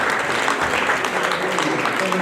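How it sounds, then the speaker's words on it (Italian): An audience at a Miss Europa regional final in Veneto applauds the jury, with steady, fairly loud crowd clapping throughout the short moment. "possiamo sentire applauso alla giuria."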